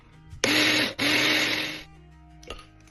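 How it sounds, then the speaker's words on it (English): A kitchen blender whirs loudly through rosemary, basil, parsley and thyme in two close bursts with a brief stop between, winding down, then a short pulse at the end. "I like to blend everything together."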